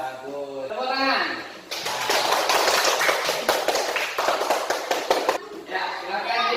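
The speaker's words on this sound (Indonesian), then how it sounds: "Bagus. Tepuk tangan." A classroom of students bursts into applause, a dense burst of many hands clapping for several seconds, with a teacher's voice before and after.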